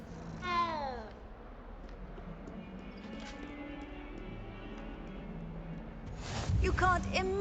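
A cat in the Hogwarts Legacy video game gives a short meow near the start and another toward the end, over quiet game ambience and background music.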